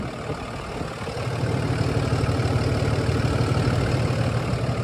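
A 6.7 liter Cummins ISB inline-six turbocharged diesel in a 2018 International DuraStar 4300 box truck runs steadily, a loud, close, low rumbling idle that swells slightly after the first second and then holds even.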